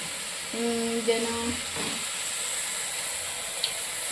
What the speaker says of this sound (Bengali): আগে এটাকে একটু ভালো করে ফ্রাই করে নিচ্ছি তেলের মধ্যে